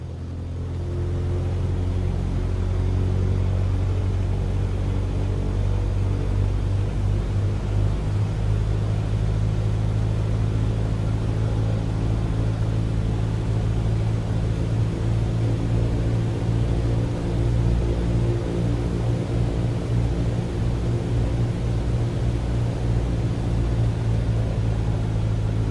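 A light aircraft engine in Microsoft Flight Simulator 2020 runs up while holding at runway 30 left, a steady loud droning hum that builds over the first seconds and then holds even and continuous, with no talk.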